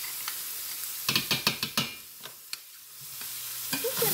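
Tomato paste going into a hot pan of Cuban picadillo, with a rapid run of sharp spoon scrapes and stirring strokes over a sizzle, then a few scattered clinks as the frying continues.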